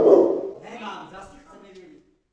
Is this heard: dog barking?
yes